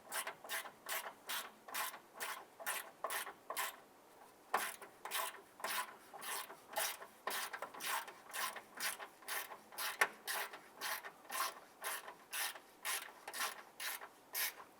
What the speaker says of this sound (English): Now I'm going to tighten this down using our hand ratchet